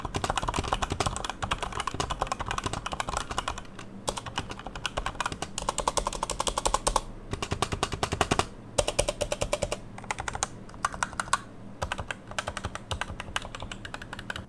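Rapid, crisp clacking of a Razer Blackwidow V3 Pro mechanical keyboard being typed on, with dense bursts of keystrokes broken by brief pauses, close and clear, with no talking.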